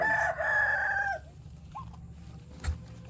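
A rooster crows close by for about a second, followed by a few soft clucks and a brief sharp knock in a quiet yard.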